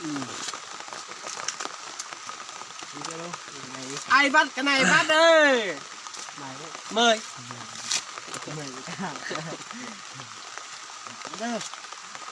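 Outdoor rain hisses steadily beside corn grilling over a fire, a constant sizzling wash running beneath loud, animated conversation between several people.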